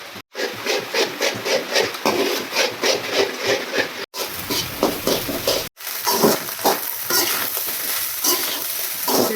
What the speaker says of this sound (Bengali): এখন ডিমও গুইনো ভাজা করিলাম ভালো করে,